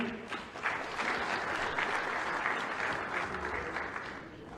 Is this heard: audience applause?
yes